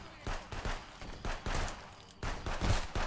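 Repeated gunshots in Contraband Police, a series of close, punchy bangs in an uneven rhythm, with some speech mixed in.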